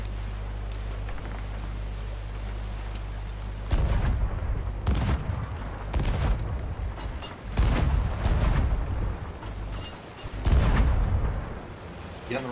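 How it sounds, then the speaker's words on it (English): Ship cannons firing in the pirate video game Sea of Thieves, a steady hum breaking into a series of heavy booms spaced a second or two apart, with players talking over the action. "Alright, load your cannons."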